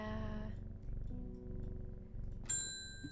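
A cat purrs in a low, steady rumbling rhythm close by, continuing throughout, with a bright chime-like ding ringing out near the end.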